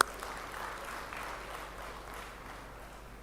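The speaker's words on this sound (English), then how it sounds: "Let's give them a big round of applause." Conference audience at a farmer producer organisation conclave breaks into steady applause, a dense wash of many hands clapping that starts abruptly and holds at an even level without fading.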